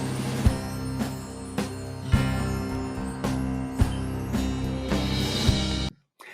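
Music playback of a solo track in GarageBand, a full arrangement with regular heavy percussive hits under sustained tones, fairly loud, cutting off abruptly to silence at the end.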